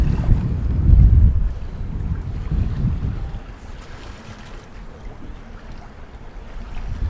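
Strong wind gusting across an open bay with fairly strong waves, heard from aboard a sailboat riding at anchor; loud buffeting rumble at first, easing to a steady, softer wash and wind roar with no talk.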